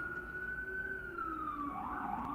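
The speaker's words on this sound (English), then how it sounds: "As you hear in the background, I believe that is the police cars." Police car sirens wail in the distance, a steady rising and falling tone sitting behind a constant low background hum, with no other sounds breaking through.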